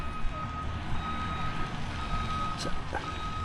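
A dump truck's reversing alarm beeps steadily during flood cleanup along a river after a hurricane, heard at moderate distance over engine rumble and outdoor noise.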